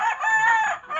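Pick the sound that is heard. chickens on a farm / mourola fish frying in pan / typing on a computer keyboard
chickens on a farm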